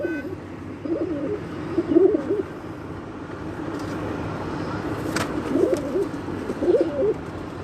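Breeder pigeons cooing in a loft, with repeated soft, throaty coo phrases at close range over a steady background hum, rising and falling in short bursts.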